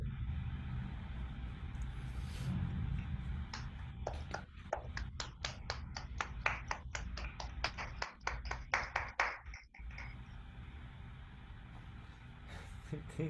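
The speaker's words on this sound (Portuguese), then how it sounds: "Aplausos." Audience applause after an electronic music performance, a burst of separate claps building and then fading over several seconds, heard over low background noise.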